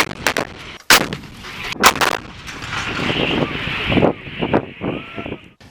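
Loud booming shots from D-20 artillery guns during a coastal and surface-target firing drill, several sharp blasts in the first two seconds followed by rumbling echo and wind noise outdoors.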